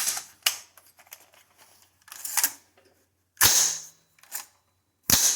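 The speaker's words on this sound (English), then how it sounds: "let's go ahead and get the ammo in the gun" Metallic clicks and snaps of ammunition being loaded into a fire-damaged AR rifle, several sharp bursts separated by quiet gaps, close and fairly loud, with no talking.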